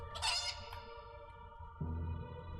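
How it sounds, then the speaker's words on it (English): Chicken in the video game Fable 3, a brief loud squawk at the start followed by quieter clucking and a low murmur, faint overall. "the killer monsters are... chickens? A chicken?"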